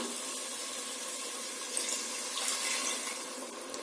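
Water pours steadily into a pot of fried biryani masala for plain kuska biryani, a continuous close rushing splash that swells slightly midway and carries on without any talk.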